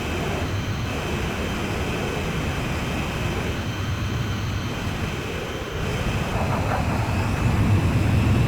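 An F-35 jet engine roars in a steady, loud drone in the Ace Combat 5 flight game, holding level throughout with no speech over it.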